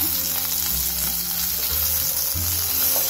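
Curry leaves and asafoetida sizzle loudly in hot oil, a dense, continuous crackling fry close up with a few low thumps of a utensil, no voices.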